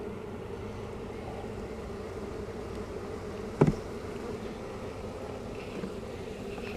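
Honeybees in an opened hive fanning and buzzing, a steady low drone throughout with one brief closer, louder burst partway through as a bee passes near.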